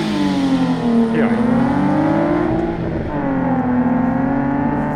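A Nissan 370Z or Infiniti G37 S Coupe V6 launches and accelerates hard, its loud engine note climbing through two gear changes in one close, continuous pull with a brief dip at each shift.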